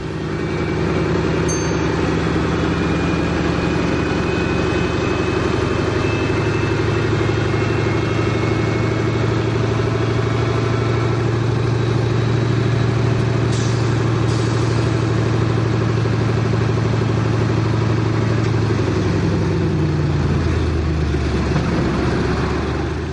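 An X 2400-series railcar's diesel engine drones steadily throughout, heard from inside the cab despite a soundproofing hood, a low constant rumble with a slight shift in pitch near the end.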